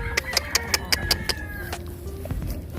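A group of chickens and roosters clucks nearby in a quick run of sharp repeated calls, followed by scattered softer clucks.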